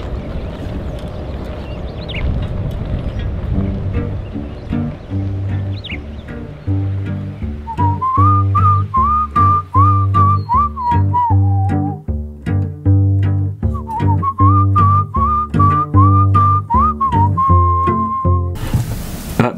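A Dead South song opens with a low rumbling, rainy ambience, then a plucked rhythmic backing kicks in, and a clear, lilting human whistle carries the melody in two long phrases over the steady strummed beat.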